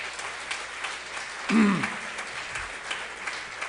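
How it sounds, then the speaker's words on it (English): Audience at the Jewish Schools Awards 2020 ceremony gives a continuous wash of applause, moderately loud and even, with a short voice cry rising and falling above the clapping partway through. "please applaud everyone else for this fantastic work that you're doing"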